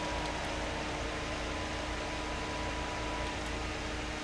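A steady electric fan whirs close to the microphone, a constant airy hiss with a faint low hum underneath, and nobody speaks.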